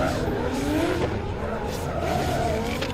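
A BMW E30 drift car in a 2023 Pure Drift championship event thrown hard into the first corner, sliding with sustained tire squeal over a loud, continuous engine drone that rises and falls in pitch, steady and close throughout.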